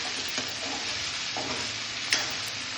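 Peas frying and being stirred in a pan as part of the masala for mustard greens saag, a steady dense sizzle with faint stirring scrapes and one brief clink.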